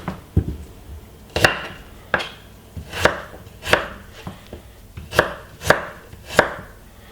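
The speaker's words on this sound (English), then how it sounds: "This is a ginger, and I need to cut off a lovely piece." A knife chops through a piece of ginger on a board, about a dozen sharp, irregular thuds with brief gaps between them, close and clear with no talking.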